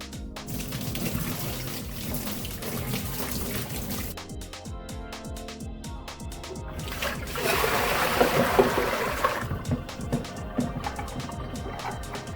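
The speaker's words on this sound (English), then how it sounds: "I had the water running and I was looking at the paint" Tap water runs in a steady, hissing rush that swells louder in the middle stretch, while other household sounds and a tonal backdrop carry on throughout.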